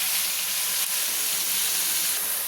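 Sliced onions with salt fry in hot oil in a pan for a cauliflower chicken dish, giving a steady, loud, unbroken sizzle with no talking.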